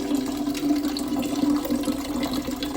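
Water pours steadily through a filter cloth into a vessel, a continuous fairly loud rushing and gurgling flow without breaks, no talk.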